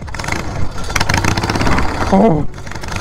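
A riding lawn mower fitted with a stronger engine revs hard and loud throughout, a dense broadband roar with a rising whine near the end, while someone shouts an excited exclamation over it.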